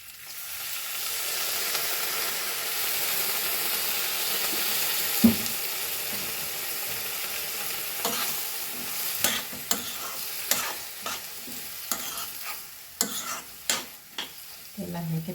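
Green chillies and vinegar sizzle and crackle in a hot pan for chilli pickle, with steady frying hiss and irregular scraping clicks of stirring growing more frequent toward the end; no talking.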